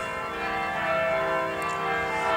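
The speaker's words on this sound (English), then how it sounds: "So let's listen to the bells" Church bells ring the 5 o'clock hour outdoors, their sustained, overlapping tones humming steadily and fairly loud with no talking.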